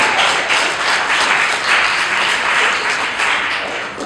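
An audience at the Homestead mayors debate breaks into loud, sustained applause, a dense wash of many hands clapping close by that fades slightly toward the end.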